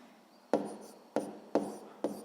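A pen on paper during a sixth-grade maths exercise, four quiet, separate scratching strokes at uneven intervals, close and alone.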